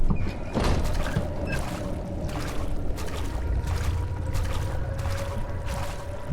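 Splashing and sloshing of wading through water in the video game Amnesia, a steady murky churn with scattered splashes and occasional clunks, heard alone without speech.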